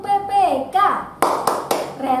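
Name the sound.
children clapping the PPK clap rhythm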